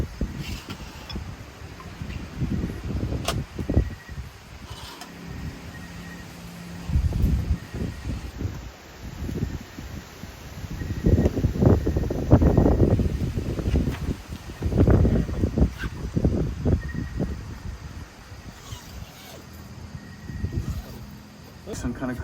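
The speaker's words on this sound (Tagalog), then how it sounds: "Grabe yung hangin." Strong wind gusts roar and rustle across a car-camping site at Sierra Madre Hotel and Resort in Tanay as a thunderstorm approaches, rising and falling in long surges with faint voices underneath.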